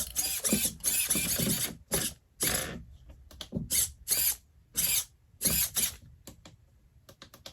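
Steering servos on a GSPEED V3 six-wheel-drive RC truck whir in a series of short mechanical bursts as steering modes switch between crab walk and rear steering, close and fairly loud with brief pauses between movements.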